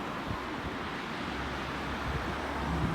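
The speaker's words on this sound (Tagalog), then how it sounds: "Malakas nga lang hangin." A strong, cold wind blows steadily among houses in Minami Odaka, making a dense, continuous rush of buffeting noise throughout. No voices are heard.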